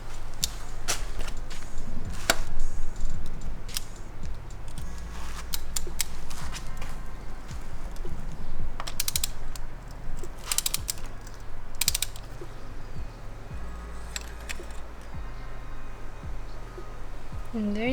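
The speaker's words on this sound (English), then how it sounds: "I'm just using a smaller torque wrench to take them out" Ratcheting torque wrench clicks and creaks repeatedly while loosening spark plugs on a Mini Cooper S, close and fairly loud, in irregular bursts of pawl clicks with metallic mechanism noise throughout.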